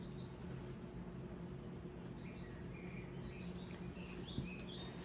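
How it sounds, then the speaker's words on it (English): Recorded nature sounds play from a stereo: faint, scattered bird chirps and tweets over a low, steady indoor hum, quiet and distant throughout. "But I've got nature sounds on in the background on my stereo"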